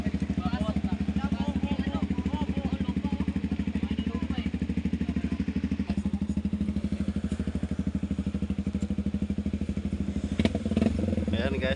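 A motorcycle engine runs with a steady rapid chugging throb, close and loud, a voice faintly talking over it.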